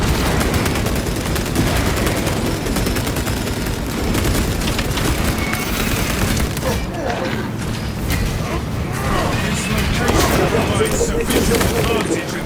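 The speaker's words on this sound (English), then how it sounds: "Frag grenade deployed." Frag grenade blast and gunfire in Warhammer 40K: Space Marine 2, a dense continuous battle din of rapid weapon fire, booms and mechanical clanks heard close up, with voices calling out over the fighting.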